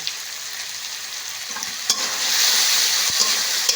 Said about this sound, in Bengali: দিয়ে আবার এইভাবে বেশ ভালো করে নেড়ে নেব